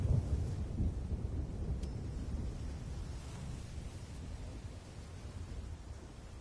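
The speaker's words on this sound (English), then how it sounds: "You watch the lightning in the distance flash," Distant thunder rolls after a lightning flash in the ocean map of the fishing video game Fishing Planet, a low rumble that starts strong and slowly fades over several seconds, with no talk.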